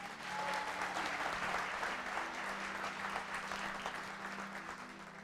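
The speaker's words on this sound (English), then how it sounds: "Give them a round of applause." An indoor audience claps steadily for about five seconds, a dense, even wash of applause with no talking over it.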